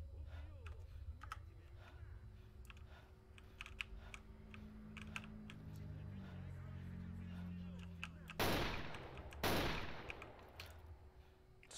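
Distant gunfire in the S.T.A.L.K.E.R. Anomaly game, heard as two sharp, loud bursts near the end, under steady keyboard clatter and a low ambient hum.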